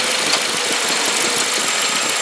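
The A/C compressor on a 2005 Volkswagen Passat 1.8T with warm-blowing air conditioning is engaged and spinning: a loud, steady mechanical whir and rumble in the engine bay that continues without a break.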